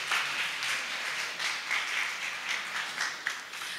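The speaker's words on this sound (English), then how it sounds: "So can we give a big round of applause for all of that?" Conference audience applauding after a closing plenary address: a sustained wash of many hands clapping, moderately distant and fairly even throughout, without voices.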